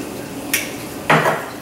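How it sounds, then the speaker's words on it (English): A spoon clanks against a pot of chicken casserole on the stove, two distinct metallic knocks half a second apart, the second louder with a short scraping ring, in a quiet kitchen. "We'll stir this around."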